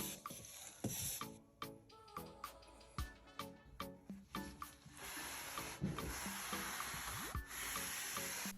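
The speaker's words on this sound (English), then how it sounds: "I used a cotton fabric to apply the stain." Cotton fabric rubs gray stain onto a wooden dresser in close, quiet rhythmic swishes and scrubbing strokes, with light knocks and scrapes, then a steadier rubbing hiss.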